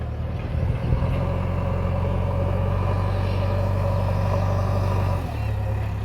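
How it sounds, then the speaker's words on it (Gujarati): The diesel engine of a JCB loader runs steadily and close by at a construction site where soil is loaded into tractors, a loud low rumbling drone that drops slightly near the end. "લોડર ચાલુ કરી દીધું છે"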